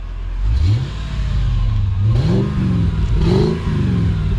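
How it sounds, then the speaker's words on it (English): A car engine that runs rich with a fuel problem is revved three times, each rev climbing and falling back, loud and close, with no talk over it. "That's as much as it'll rev."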